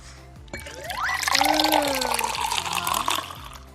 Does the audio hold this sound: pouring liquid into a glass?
yes